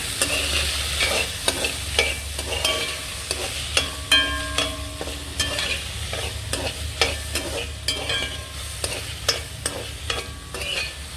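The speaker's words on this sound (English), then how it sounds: "I'm going to add now my fresh seasoning and my mixed vegetables. And I'm going to give this a gentle stir." A spoon stirring fresh seasoning and mixed vegetables in a frying pan with soya chunks and rice, repeated close scraping strokes over a steady sizzle, no voices.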